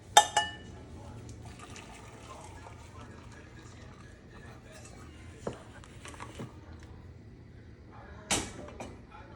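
Boiling water is poured into a pot of kasha in a few short splashing bursts over a low background hum, with a louder gush near the end.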